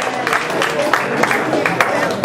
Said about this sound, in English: let's give John a round of applause too